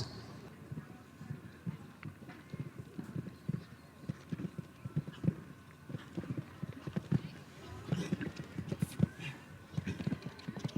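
Hooves of a show jumping horse clip-clop steadily across an arena during a jumping competition, a continuous rhythm of close thuds with an occasional whinny, while a commentator talks over them.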